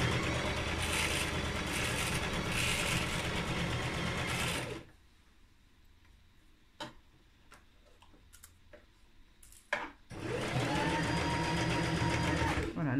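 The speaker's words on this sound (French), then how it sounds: "et je continue à coudre." A sewing machine stitches a coat in two close, steady runs of rapid mechanical whirring, split by a quiet pause of several seconds that holds only a few faint ticks and clicks.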